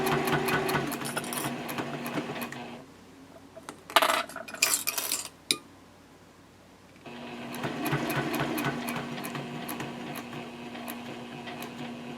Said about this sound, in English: Now I'm sewing the binding on the other side of the journal